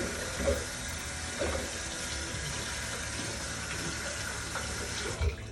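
Steady tap water runs into a bathroom sink as product is rinsed off a face, with a few soft splashes and hand movements breaking the constant flow.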